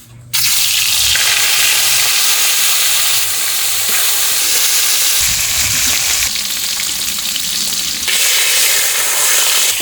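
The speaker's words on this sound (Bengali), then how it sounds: "মাছটা এখন ভেজে নেব।" Rohu fish fries in hot mustard oil in a pan, a loud, steady crackling sizzle that carries on throughout with a few brief surges, with no talking over it.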